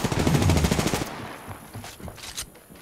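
A loud, close burst of rapid automatic gunfire in Apex Legends cuts off after about a second, leaving fainter scattered shots and game sounds trailing away.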